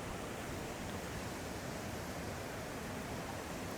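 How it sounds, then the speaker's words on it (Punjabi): Flowing water in a quiet, peaceful village, heard as a faint, steady hiss of running water with no breaks and no voices, soft and somewhat distant. "ਸਿਰਫ ਪਾਣੀ ਦੀਆਂ ਆਵਾਜ਼ਾਂ ਹੀ ਸੁਣਨ ਨੂੰ ਮਿਲਦੀਆਂ ਪਈਆਂ ਇੱਥੇ"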